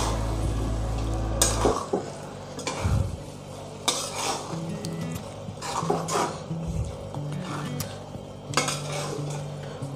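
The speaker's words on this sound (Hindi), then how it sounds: "और इस मसाले के साथ बॉइल्ड एग को एक बार अच्छे से मिक्स करेंगे।" Boiled eggs being stirred into masala in a pan: repeated scraping and clinking of a utensil against metal, with irregular knocks and a soft background sizzle, close and moderately loud, no talking.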